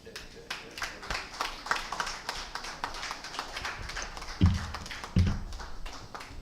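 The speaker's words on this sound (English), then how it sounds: "That applause is not resounding." Thin, scattered clapping from a modest audience at a law week afternoon session, with individual claps spread unevenly and fairly quiet, plus a couple of brief low thumps toward the end.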